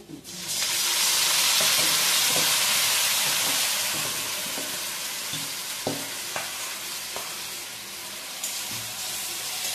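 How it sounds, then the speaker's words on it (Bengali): Marinated chicken with chopped onions fries in a pan, giving a steady close sizzle with scattered crackles and pops throughout, the sound of stirring faintly audible underneath. "ভেজে নিয়েছি, ভেজে নিয়ে ম্যারিনেট করা চিকেনটা"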